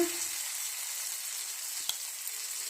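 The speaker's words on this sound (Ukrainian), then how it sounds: "І накладаємо такі досить товстенькі наші деруни. Обсмажуємо на олії з двох сторін до такого золотистого кольору." Thick pumpkin potato-style pancakes frying in well-heated oil give an even, continuous close sizzle, with a single soft tap partway through and no voices.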